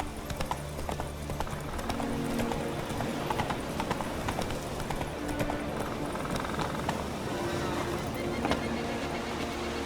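Horse hooves clip-clop at a steady galloping rhythm while riding in the video game The Witcher 3: Wild Hunt, continuous and fairly close, with game ambience and a brief spoken voice.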